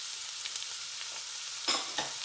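Onions and carrots sweat in a pan over medium heat, a soft, even frying hiss broken by two quick stirring scrapes near the end.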